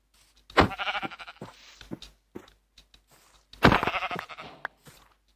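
Sheep in a video game bleat loudly twice with a few scattered thumps and soft steps between, the calls close and clear with no talking.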